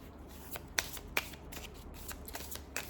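A deck of Moon Oracle cards is shuffled up close, giving soft riffling and sharp flicking snaps in a quick irregular rhythm at low volume, with no talking.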